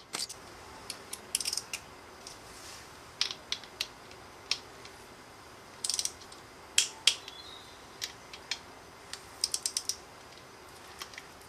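A ratchet wrench works bolts on the primary chain case cover of a 2011 Harley Davidson FXDC during a stainless bolt swap, giving faint, close, irregular clicks and short bursts of ratcheting over a quiet background.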